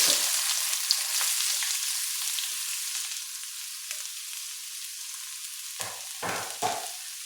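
Onion frying in hot oil in a pan for a Kerala-style scrambled egg dish, a steady close sizzle throughout with a few louder bursts of spattering near the end, no talking.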